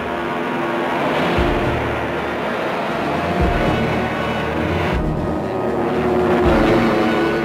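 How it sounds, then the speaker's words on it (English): A steady, loud drone of American warplanes flying over Mount Suribachi during the Iwo Jima battle in World War II, a continuous engine roar from archival film with a few swelling low surges. "Suddenly, the sky is filled with American planes bombing Mount Suribachi."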